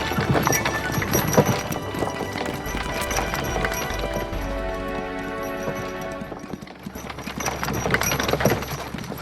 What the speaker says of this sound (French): Plus vite, Flanfolet, plus vite! Grillon cheval! Plus vite!